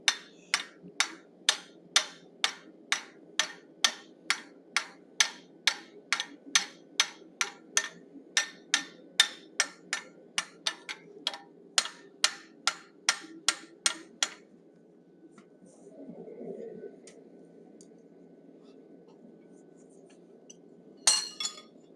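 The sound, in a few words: rounding hammer forging metal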